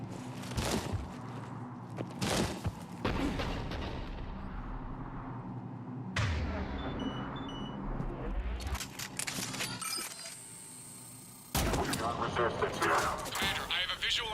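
Cerberus cannon fire in Mass Effect 3 on Tuchanka, heard as repeated heavy booming blasts and rattling bursts spread through a long stretch of battle noise, with loud impacts at the start and a dense barrage near the end.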